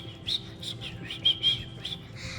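A human voice imitating a baby dragon's chirp gives a series of short, high bird-like tweets, about seven quick pulses in an uneven rhythm, close and alone over a low background hum.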